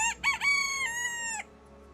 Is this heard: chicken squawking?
yes